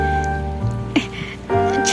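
Heavy rain pours steadily onto surfaces, a loud, continuous close wash with a low, steady tonal hum underneath and no talking.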